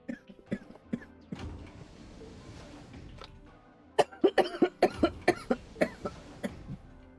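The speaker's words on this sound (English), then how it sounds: "Please enjoy the beautiful background noise of my coughing." Repeated coughing fits from a person nearby, a few scattered coughs early on and then a dense burst of about ten loud, sharp coughs in quick succession, with some low background noise between.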